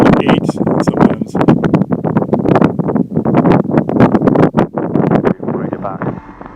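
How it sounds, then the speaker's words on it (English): Gusty wind buffets the microphone in the cockpit of a Quad City Challenger II ultralight with a low rumbling roar while someone talks over it. "Just to show you what I mean with too windy, that's gusting"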